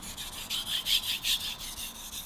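Stainless hard steel knife stroked across a Gesshin 1200 grit splash-and-go whetstone, a close, rhythmic series of about eight soft swishing scrapes.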